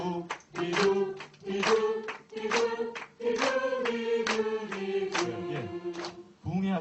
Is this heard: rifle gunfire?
no